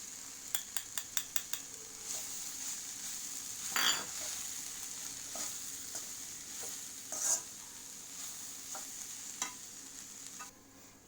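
Long beans with grated coconut stir-fry in a pan, a soft steady sizzle broken by repeated sharp scrapes and clicks of a spoon against the metal, close and without talk.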